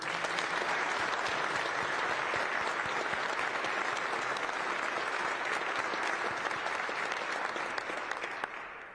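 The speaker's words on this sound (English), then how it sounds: "Let's give him a round of applause." Sustained applause from a large audience at a public event honouring nearly 39 years of service to the United States, steady and dense throughout and easing slightly toward the end.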